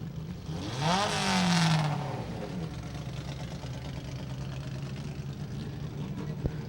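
Race car engines run at a dirt-track victory lane, one rising in a brief revving sweep before falling back into a steady, moderately loud idle rumble that continues to the end.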